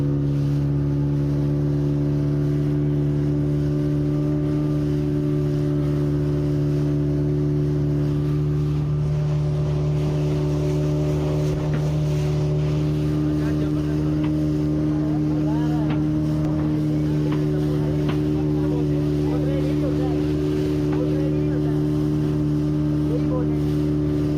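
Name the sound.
motorboat ride on water in Goa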